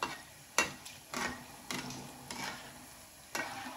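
Ghee frying gently over a low flame: a soft, low-level sizzle with a few separate scraping or tapping stirs spaced out across the span, heard up close and without voices.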